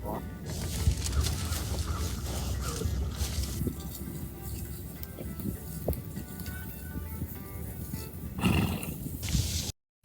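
Horses during a training session give a neigh amid a busy outdoor ambience of hooves and movement, with a brief high whinny standing out before the sound cuts off abruptly.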